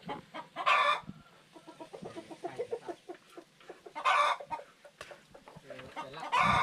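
Chickens cluck busily nearby with a few louder squawking bursts, while a person talks in the background.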